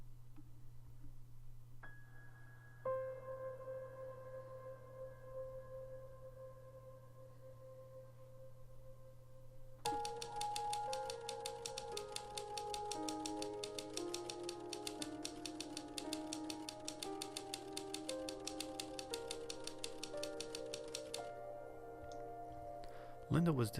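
Typewriter typing in the video game The Novelist: a long run of rapid, even mechanical keystrokes clatters over a steady low hum and soft sustained musical tones, then stops abruptly.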